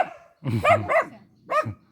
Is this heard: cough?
no